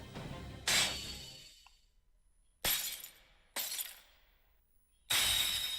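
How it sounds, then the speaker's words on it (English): Glass-like shattering from the video game Fate/Grand Order: four sharp crashes, each bursting loud and then ringing off into tinkling fragments, separated by short pauses with no voices. "There, I smashed it to pieces."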